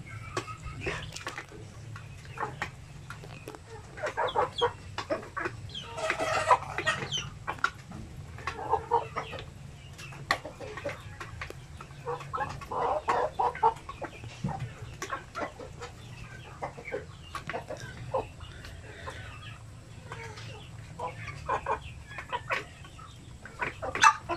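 Chickens with colds, kept apart from the rest of the flock, cluck and make soft calls in scattered bursts, close by, over a low steady background hum.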